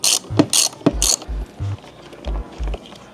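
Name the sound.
13 mm socket ratchet removing motorcycle fender bolts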